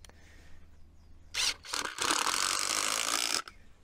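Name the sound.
driver driving a screw through wood into masonry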